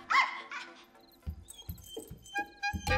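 A dog barks and yips in short bursts with a whimpering tone, several uneven calls close by in a dubbed film scene, with a brief tonal sound in between.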